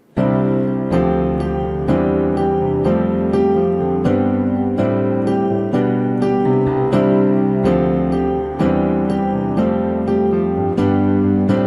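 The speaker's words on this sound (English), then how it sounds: "rising chord progression or train will sound like this" Piano chords struck one after another in a steady rhythm, each chord ringing out as the harmony climbs upward, clear and alone.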